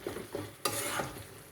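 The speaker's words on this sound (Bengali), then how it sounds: "একটু চিকেনটা মাঝে মাঝে আমাকে নাড়াচাড়া করে নিতে হবে" Chicken frying in a pan sizzles steadily as it is stirred, with soft scraping strokes and a sudden louder burst of hissing partway through, heard close with no voices.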